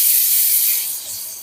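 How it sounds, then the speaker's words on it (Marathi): Hot spiced oil tempering poured onto cooked dal, a loud hissing sizzle that bursts at once and then slowly fades over a second and a half. "चरकन फोडणी बसते."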